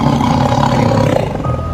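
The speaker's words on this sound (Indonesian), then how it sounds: "Iya, kayak suara harimau" A tiger roars on Mount Semeru during a night climb, a loud, deep, rumbling growl that swells and sustains for nearly two seconds, close and alone without talk.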